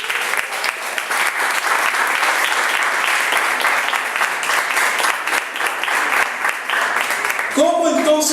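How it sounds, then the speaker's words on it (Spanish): A church congregation applauds strongly, a dense, sustained wave of clapping at a steady level, then a voice breaks in right at the end. "Mírenle fuerte el aplauso al Rey de Gloria."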